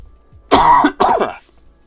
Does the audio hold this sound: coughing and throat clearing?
yes